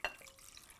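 A brief splash of water into a pancake batter mixture, then a faint trickle that fades quickly.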